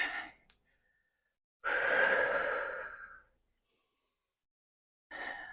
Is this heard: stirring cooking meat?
no